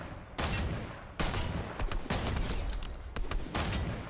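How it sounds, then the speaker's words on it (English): Fortnite gunfire crackles in bursts, sharp repeated shots and rapid volleys cutting in and out over a dense game soundscape, loud and close with no voices. "They're getting shot by someone else."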